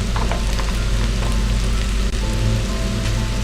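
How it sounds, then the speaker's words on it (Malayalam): Onions sautéing in oil with turmeric, chili, pepper and coriander powders make a steady close sizzle with soft crackle and a low background hum throughout, no talking. "നന്നായിട്ട് ഇനി ഒന്ന് വഴറ്റിയെടുക്കണം."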